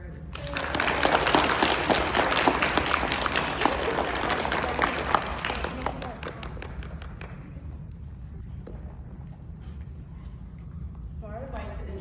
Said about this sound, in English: Let's give her a round of applause for Bruce.